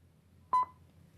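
A Cardo Scala Rider Freecom 2 motorcycle intercom gives a single short, clear electronic beep during pairing, close and alone against near silence.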